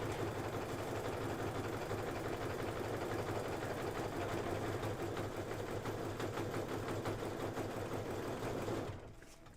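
A machine embroidery stitch-out of a Kimberbell heart and home door decor design, window panes being sewn, hums in a fast, steady needle rhythm, close and continuous, cutting off near the end.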